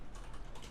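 Quick bursts of typing on a computer keyboard, several soft clicking keystrokes in a short run, fairly quiet and close with no talking.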